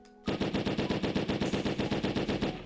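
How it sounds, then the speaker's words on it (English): Sustained automatic rifle fire in the Rust video game, a rapid, evenly spaced stream of loud close shots that begins abruptly and continues without a break. "I'm not gonna control it. I'm just gonna shoot."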